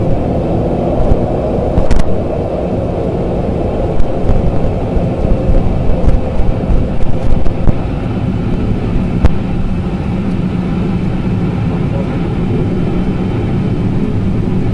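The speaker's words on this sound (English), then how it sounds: "Now we come in with the reversers to slow us down." Learjet thrust reversers roaring after touchdown on a ranch runway, a broad, loud, steady jet rumble and whoosh that holds throughout without speech.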